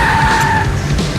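A car screeches off with spinning, skidding tyres in the video game Max Payne 3, a steady loud squeal over rumbling engine noise for about a second, with no talk.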